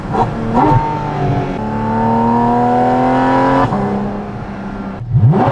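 A Porsche Cayman GT4 RS with a valved titanium rear exhaust section revs up and holds a high, rising exhaust note, drops back, then revs sharply again near the end; loud and close.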